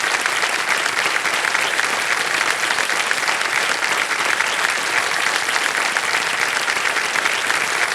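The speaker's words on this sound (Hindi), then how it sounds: "तालियां बज जाए इनके लिए एक बार।" Studio audience on the Hindi quiz show Kaun Banega Crorepati clapping loudly and continuously in a dense, even burst of applause that lasts several seconds without any break.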